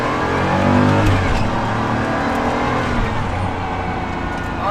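Turbocharged Pagani Huayra engine heard from inside the car: a loud, continuous engine drone with shifting, rising and falling tones as it revs, filling the cabin without pause.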